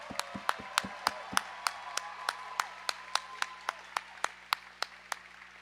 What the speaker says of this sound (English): put your hands together for all of our volunteers who make all this possible